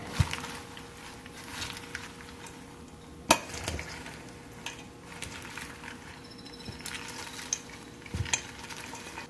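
A Brussels sprouts salad gets tossed with Asian dressing made with toasted sesame oil, giving soft wet rustling and stirring with occasional sharp clicks of utensils against the bowl.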